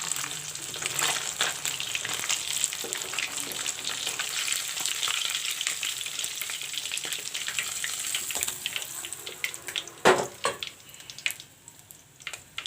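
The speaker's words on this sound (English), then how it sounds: "I will turn the other side of the fish. That also will fry." Fish fries in hot oil in a pan, giving a steady close sizzle with occasional sharper crackles and a clatter near the end. No one talks.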